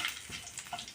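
Whole cumin, dried red chili and bay leaf are tempered in hot oil for a raw banana kofta curry, making a soft, faint crackling sizzle with a few brief pops.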